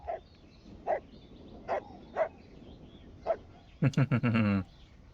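Dogs in The Last of Us Part 2 video game bark in a series of short, spaced single barks, then a rapid, louder cluster of yelps near the end, with no talking.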